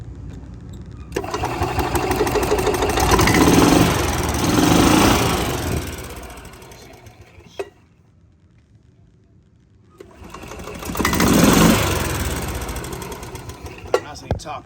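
A Club Car golf cart engine revs under light throttle in two swelling bursts, a buzzy rising drone that drops back to a quiet idle in between, heard up close with a few small clicks.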